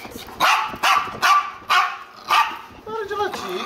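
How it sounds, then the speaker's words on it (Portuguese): A dog barks five times in quick, evenly spaced sharp bursts, close by, followed by a brief higher whine. "Para de latir, Kiko."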